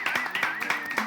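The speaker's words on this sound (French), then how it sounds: "Applaudissements" A few people clap at a church gathering, producing a sparse, moderately quiet run of distinct handclaps in an uneven rhythm, with a tonal hum or voice-like tone running underneath.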